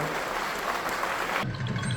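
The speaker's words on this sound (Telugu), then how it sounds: "పౌరమ్మ గారిని మొగిలయ్య గారిని ఒకసారి చప్పట్లతో సత్కరిద్దాం గౌరవిద్దాం" An audience applauds to honour veteran folk singers Komaramma and Mogilayya at an award event: dense, steady clapping throughout, shifting to a fuller, lower wash near the end.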